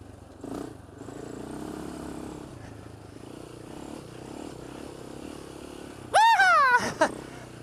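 Polaris Outlaw 525 ATV doing donuts, its engine a low steady drone for several seconds, then a sharp rising and falling rev burst near the end, fairly close and loud.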